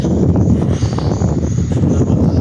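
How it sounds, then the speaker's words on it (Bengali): Strong wind buffeting the microphone outdoors, a loud, continuous low rumble that carries through with no voices. "বাতাস আসছে"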